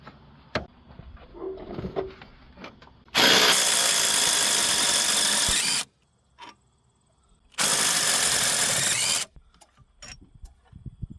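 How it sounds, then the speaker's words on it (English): Two 18 mm transmission mount bolts come out on a VW Jetta (2006-2010 era), removed with a power tool in two loud sustained whirring bursts of about two to three seconds each, with clanks of tools and metal between them. "Now we can remove these 2 18 millimeter bolts."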